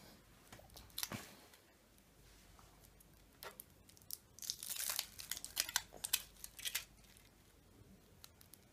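Crinkling foil wrapper being peeled off a Kinder Surprise chocolate egg: bursts of close, papery rustling and crackling that grow busier midway and then fade, with no talking.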